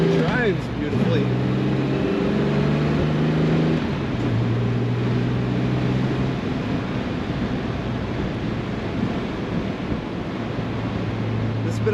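A 1969 Jaguar XKE convertible runs with its top down, its engine giving a steady low droning hum that rises and falls in pitch under constant wind rush while driving.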